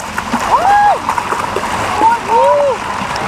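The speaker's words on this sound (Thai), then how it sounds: "ตอนนี้เรากำลังว่ายอยู่" Splashing water from swimming in a pool at the Pattaya Park water park, a steady wash of nearby splashes and churning water under excited voices, with people talking throughout.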